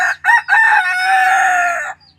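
Hen named Dorothy, a broody backyard chicken, gives a loud, close, drawn-out vocalization after two short clucks, sounding alone with no talk.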